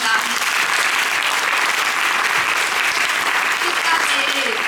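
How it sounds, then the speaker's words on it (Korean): A theatre audience applauds steadily and loudly at the curtain call of a Korean musical's evening final performance, dense clapping filling the whole stretch without letting up. "또 큰 박수 한번 부탁드립니다."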